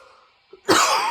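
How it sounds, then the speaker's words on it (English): A single harsh cough bursts out loud and close after a short quiet stretch, with no talking around it. "Hopefully I can get rid of this cough soon."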